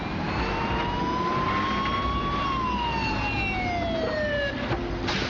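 A fire engine siren wails and sweeps in pitch over a steady background roar after a plane crash in a rainstorm, sounding from mid distance and holding loud throughout without voices.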